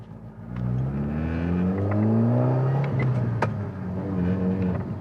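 A heavily modified 460bhp Audi S3 with a rebuilt engine pulls away onto the road, its engine note rising through a rumbling rev with a steady low drone heard from inside the car.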